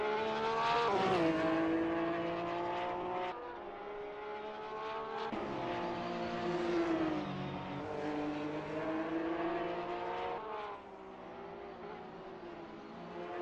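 Porsche 911 GT3 race cars circuit racing, engines roaring loudly and continuously with rising and falling revs as cars accelerate and pass close by.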